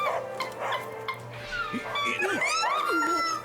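A person imitates a dog up close, yelping and whining in rising, wavering barks for a few seconds.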